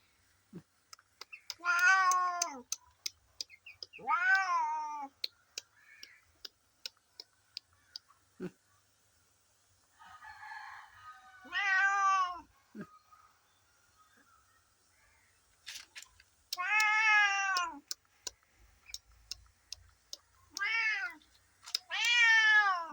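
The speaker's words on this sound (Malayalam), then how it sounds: "നല്ലൊരു പൂച്ച" A cat meows repeatedly, clear, drawn-out cries spaced a few seconds apart, with soft clicks and faint background noise between them.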